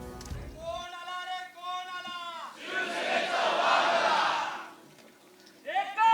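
A large crowd of Shiv Sena supporters at a political rally lets out a loud, sustained roar of shouting and cheering, with individual voices calling out rhythmically before and after the surge.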